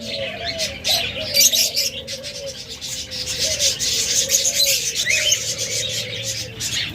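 Caged budgerigars, cockatiels and lovebirds chirp and chatter together in a busy, overlapping flock, with repeated short calls near and far and a scratchy rustle underneath.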